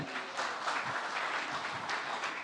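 Applause from an audience at an Indonesian PDIP party political event, greeting a minister: a steady wash of clapping from a moderately distant crowd for about two seconds, with no talk over it.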